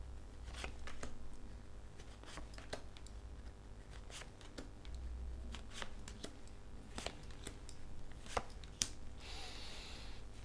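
Playing cards riffled and snapped in repeated quick bursts, crisp and close, with a longer ruffling shuffle near the end.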